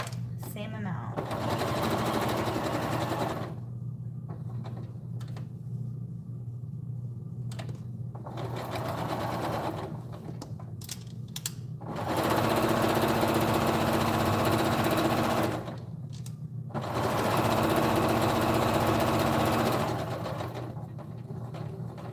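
A sewing machine stitches up and down on a blanket in several bursts, each running a few seconds with pauses in between, loud and close with a steady motor hum underneath.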